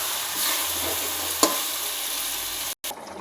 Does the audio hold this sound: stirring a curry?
yes